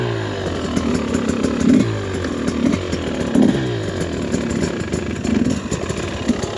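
A brand-new 2024 Husqvarna TE300 two-stroke dirt bike runs close by, its engine buzzing raggedly and stumbling as it struggles to hold an idle, with small revs and dips throughout and no talk.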